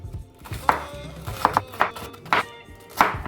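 Knife cutting an ingredient into thin slices for lasagna on a board, a run of about seven crisp, separate chops at uneven spacing, close and clear with no talk.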